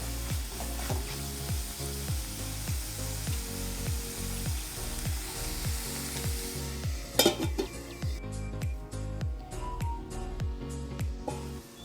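A spatula scrapes in a steady rhythm, about twice a second, as chikhur (bhokar) vegetable is mixed with crushed peanuts in a sizzling pan, followed by a brief clatter and sparser, lighter strokes.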